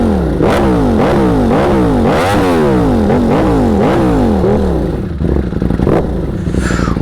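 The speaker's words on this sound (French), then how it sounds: "C'est vraiment un bruit de cloche d'embrayage" Ducati Panigale V4S engine with clutch bell rattle, loud close revving in repeated rising and falling sweeps with a metallic clatter underneath, then settling to a rough idle.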